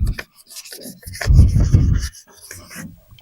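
Wet sandpaper rubbing over a car body being turned into a rally Subaru, heard up close as a few strokes of scraping and rubbing with a longer heavy pass in the middle.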